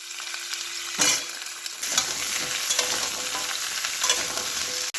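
Fish fries in a pan with turmeric and salt, a loud continuous sizzle right at the mic, with clattering stirs near the start and a brief tone fading out early.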